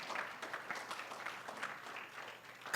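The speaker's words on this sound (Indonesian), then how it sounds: "Tepuk tangan" Church congregation clapping during a Sunday service, soft moderate applause at some distance, steady and fairly even throughout.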